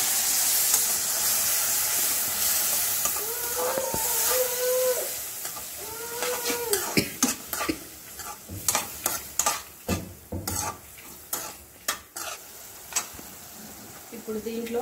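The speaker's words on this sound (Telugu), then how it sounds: "ఇప్పుడు దీంట్లో మనం పెరుగు కూడా వేసేసుకుందాం." Yogurt lands in a hot pan of chicken while making spicy Chicken Majestic, hissing and sizzling as a spoon stirs and scrapes in a steady series of close knocks, with a few faint sing-song tones in the background.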